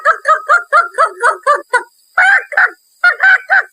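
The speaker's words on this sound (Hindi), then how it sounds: "कुछ देर बाद राहुल एक मुर्गे में बदल जाता है।" A chicken or rooster clucks in a quick, close run of rhythmic calls, pauses briefly, then gives a few louder, drawn-out squawks, loud and clear with no talking.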